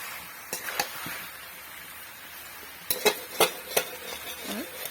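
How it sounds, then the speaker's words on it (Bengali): Potatoes stirred and fried in a pan for a fish-head chhyachra, with a soft continuous sizzle and scattered sharp scrapes and clinks of the spatula against the pan, clustered more densely toward the end, with no talk. "আবারও সবগুলি ভালোভাবে কষে নেব"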